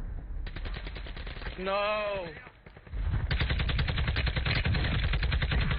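Rapid automatic gunfire from a video game, fired in two long bursts of evenly spaced shots separated by a short pause, loud and close, with someone briefly speaking in between.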